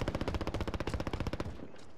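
A rapid burst of video game gunfire sounds as a loud, evenly spaced string of about twenty shots, then stops abruptly and leaves a short fading tail.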